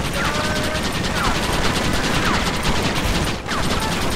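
Sustained gunfire in Red Dead Redemption, a loud, dense barrage of overlapping shots with scattered ricochet whines, running continuously with a brief dip near the end.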